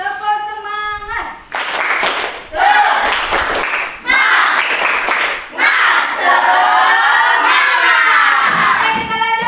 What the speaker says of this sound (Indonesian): sebelumnya kita berikan tepuk semangat